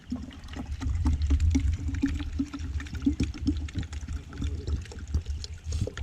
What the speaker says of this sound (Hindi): ये है प्लेस पानी का, जहाँ से गुड्डू जो है पानी भर रहा है और हम लोगों को ताज़ा पानी मिल रहा है।